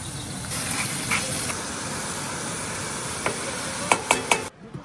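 Butter sizzling in a pan on a stove at a forest camp: a steady, close, even hiss runs throughout, with a few sharp clinks of utensils near the end before it cuts off.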